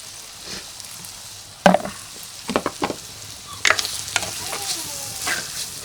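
Carrot pieces fry and sizzle in hot oil alongside fried dried fish and chillies, with a steady hiss broken by several scraping stirs of a spoon against the pan, close and fairly loud.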